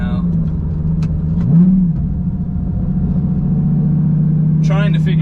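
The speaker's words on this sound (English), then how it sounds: "that naturally aspirated V10 is such a cool motor" A Lamborghini Gallardo's naturally aspirated V10 drones steadily from inside the car, its engine note rising briefly in a short rev and then holding, with a person talking over it.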